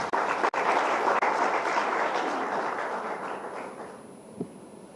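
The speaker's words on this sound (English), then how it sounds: "Let's welcome them all with a warm round of applause." A conference audience claps in a dense, steady round of applause that starts loud, then gradually fades and thins out over a few seconds, with no talk over it.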